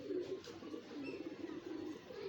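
Pigeon cooing up close, a low, soft, continuous murmuring coo that pulses steadily for a couple of seconds with no voices.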